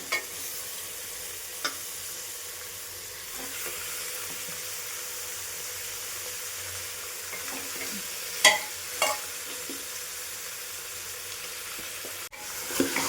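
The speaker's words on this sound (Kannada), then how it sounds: "ಇವಾಗ ಅದಕ್ಕೆ ಮಟನ್ ಹಾಕೋಣ. ಮಟನ್ ಇವಾಗ ಮಟನ್ ಹಾಕ್ತಾ ಇದ್ದೀನಿ." Mutton frying in a pan with onions and spices, a steady sizzle with occasional scraping stirs and light knocks, close and continuous.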